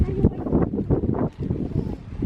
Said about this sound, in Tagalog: ang lakas kasi ng hangin dito